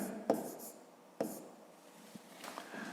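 Pen writing numbers on paper during a fifth-grade math exercise, with a few quick scratchy strokes and taps close to the microphone, faint and otherwise quiet.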